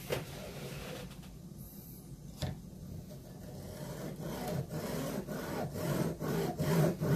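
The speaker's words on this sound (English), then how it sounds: "hacksaw." A hacksaw cuts through a solid steel arrow shaft in slow, rasping strokes, faint at first and then growing louder and more rhythmic.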